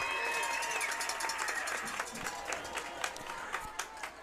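Raiders fans cheer and clap in a crowd at a high school homecoming football game on a Friday night, a steady roar dotted with scattered claps and shouts, with voices mixed in.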